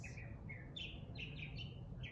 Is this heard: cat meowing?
no